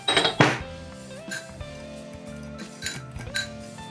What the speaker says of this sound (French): On va commencer par ajouter les cuillères à café de sucre, avec le sucre blanc,